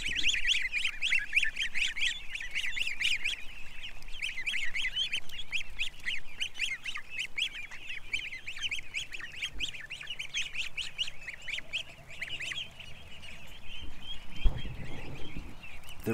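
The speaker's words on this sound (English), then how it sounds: "Oh, my gooses come over to see me." A flock of geese honks loudly and continuously, close by, with dense overlapping calls throughout and no one speaking.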